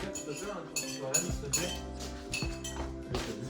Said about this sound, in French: on a fait tourner de la vaisselle